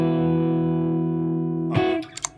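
A sustained, heavily distorted electric guitar chord through a Crazy Tube Circuits Heatseeker pedal's power amp and cab simulation rings loud and steady, then cuts off abruptly, followed by a couple of short muted plucks.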